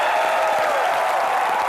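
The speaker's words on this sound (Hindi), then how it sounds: "जोरदार तालियां रानी के लिए" Studio audience applauding Rani Mukerji as she is welcomed onto the comedy talk show set, a steady, dense wash of clapping that stays loud throughout, with no talk.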